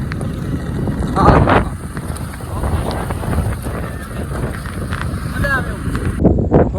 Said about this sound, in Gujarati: મારી કરતા વધારે પવન નો અવાજ આવે છે